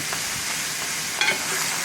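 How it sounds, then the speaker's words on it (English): Dense, close sizzling and crackling of green beans frying in hot bacon grease, with a sharper pop or stir partway through. "you can hear it sizzling and popping and gurgling"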